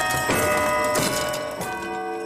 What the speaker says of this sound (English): the bells sound absolutely fantastic